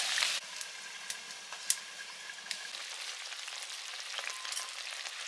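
Koi fish frying in a pan of hot oil with green chilies gives a steady, close, moderately loud sizzle, with a brief louder burst as the fish goes in and a few faint clinks, and no voices.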